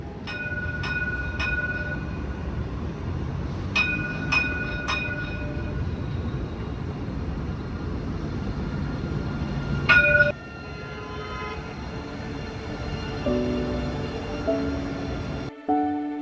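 Driverless tram running in Dubai, a steady rolling rumble close by, with repeated high chimes or horn tones early on, then a sudden drop to a quieter hum and further brief tonal signals near the end.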